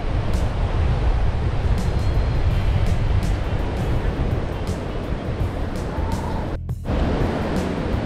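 Ocean surf washes steadily onto Bojo Beach in Ghana, West Africa, a continuous loud roar of breaking waves with brief wind buffeting on the microphone.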